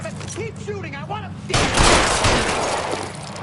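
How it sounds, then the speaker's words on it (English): Gunfire erupts from about halfway through a shootout in the video game L.A. Noire, a dense, loud burst of repeated shots that follows a stretch of talking and goes on to the end. "Keep shooting."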